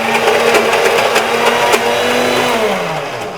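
A kitchen mixer grinder grinding the filling paste for polelu, a steady loud motor whine that runs continuously and then begins to wind down near the end.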